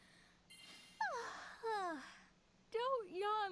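Characters in a World of Final Fantasy cutscene give drawn-out, voiced yawns, one after another with sliding pitch, over a quiet background.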